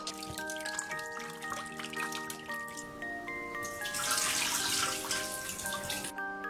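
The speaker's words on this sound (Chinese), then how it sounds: "把表面的脏沫洗掉。" Running tap water rinses blanched pork ribs in a kitchen sink, a steady trickle and splash that continues close by throughout, with tonal ringing from the basin and no talking.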